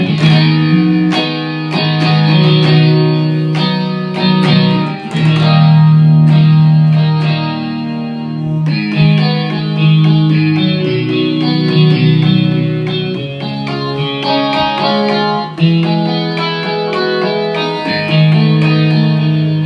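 An AeroBand electronic guitar plays a continuous melodic passage on its Fender Pop tone, loud and close with effects, strummed notes ringing steadily with no talk.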